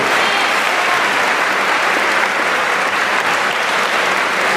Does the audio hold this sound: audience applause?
yes